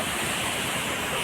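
A waterfall reached on a rocky trek with friends roars in a steady, dense wash of rushing water, loud and close throughout with no break.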